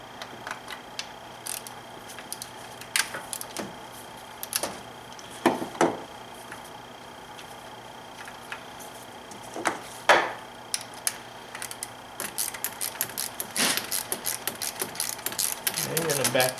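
A mechanic removes a bolt from the valve cover of a BMW N52 engine, giving scattered sharp metallic clicks and taps at irregular intervals, with denser clicking toward the end over a low steady hum.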